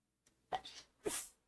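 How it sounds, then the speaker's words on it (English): A quiet sneeze: a short sharp inhale followed by a hissing, explosive burst, heard alone and close. "I have to sneeze."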